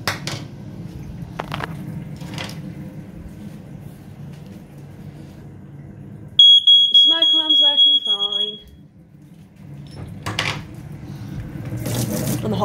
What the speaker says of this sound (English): Just trying to touch the smoke alarms.